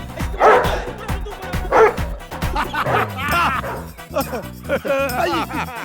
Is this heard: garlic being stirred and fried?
no